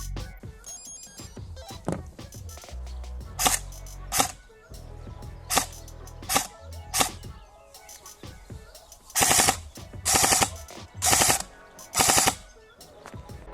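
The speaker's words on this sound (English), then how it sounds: "right now I'm gonna show you how the weapon performs with the NIM battery" An airsoft rifle (CM.621) powered by an 8.4-volt NiMH battery fires a string of short single shots and then several loud full-auto bursts, close and clear with little talk.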